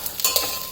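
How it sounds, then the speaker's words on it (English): Chopped beans tipped into a hot frying pan over a high flame, giving a brief soft sizzle and scrape of stirring, heard alone. "Now add the beans."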